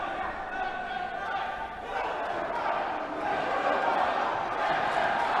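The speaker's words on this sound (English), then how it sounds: "The crowd totally getting into it." Wrestling crowd roaring during a brawl as the locker room empties to separate two fighters, a dense, steady wash of cheering and chatter with a commentator's voice running over it.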